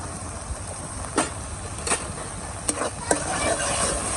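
Spices stirred and fried in a pan for a hilsa fish head curry with salt, chili, turmeric and cumin powder, giving a steady close sizzle broken by a few scraping stirring strokes.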